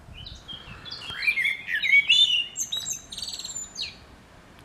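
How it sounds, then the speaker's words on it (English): A small bird chirps and twitters in a bright, rapid run of tweets for several seconds, fairly close and alone over a faint steady background hiss, outdoors near a bushcraft knife-making workspace. "The bird agrees."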